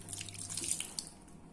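Water trickles and splashes steadily from a tap-like stream into whole wheat dough in a kitchen, a soft continuous pouring with faint drips, close and fairly quiet, with no voices.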